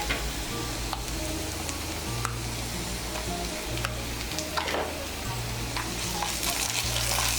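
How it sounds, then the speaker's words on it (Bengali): Ginger paste sizzles and fries steadily in hot oil after chopped onion has been browned, with a spoon scraping and stirring through it at intervals. "আদা বাটাটাকে মিশিয়ে নেব তেলের সঙ্গে।"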